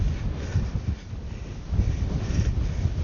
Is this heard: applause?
no